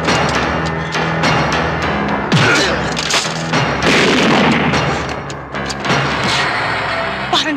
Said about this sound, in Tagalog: Parang galing sa bahay yung putok.